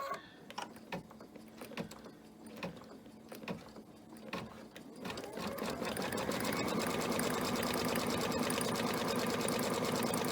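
An embroidery machine stitching a white fabric piece in place within a hoop, starting with scattered clicks and taps, then running a fast, steady, loud needle rhythm for the last several seconds with no speech.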